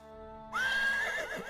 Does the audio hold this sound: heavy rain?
no